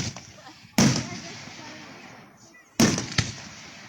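Fireworks at a Smoky Lake display in 2022 burst in two sharp, loud booms about two seconds apart, each followed by crackling and a fading rumble. Faint voices of onlookers can be heard in between.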